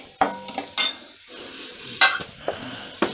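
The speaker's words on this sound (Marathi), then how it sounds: "छान असं मऊ होईपर्यंत आपल्याला परतायचं आहे." Tomato and onion sautéing in a pan for potato bhaji, with a few sharp spoon scrapes and stirring clinks over a faint sizzle, in short irregular bursts.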